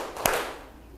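Students in a classroom clap hands in unison on a counted beat: a single sharp, bright group clap followed by a brief decaying room echo, with no talk.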